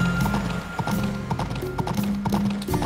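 Horse hooves clip-clop in a steady, close, rhythmic trot in the farming video game Story of Seasons: Pioneer of Olive Town, with game background music and no talk.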